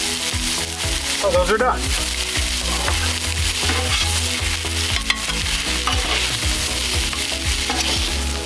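New York strip steaks sizzle steadily on a 22-inch Blackstone griddle, with rhythmic scraping and clanking of a spatula over the constant hiss, and a brief spoken remark near the start.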